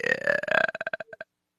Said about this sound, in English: I didn't really care for like the slow burp sound